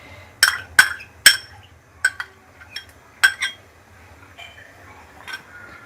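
Metal spoon stirring a cheese and cream sauce in a pan, giving a handful of sharp, irregular clinks and taps against the pan over a quiet background.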